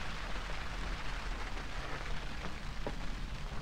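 Field irrigation sprinklers spray artificial rain over an open tomato field, a steady, dense hiss of falling water that continues without a break.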